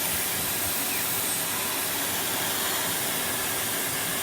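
A vacuum cleaner sucking a sausage up off the floor, giving a steady, loud, broadband hiss and roar that holds evenly from start to finish with no talking.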